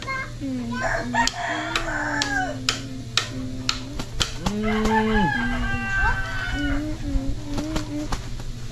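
Chickens and a rooster in a rural provincial yard, with repeated crowing and clucking over a steady background hum, plus a few sharp knocks and distant voices.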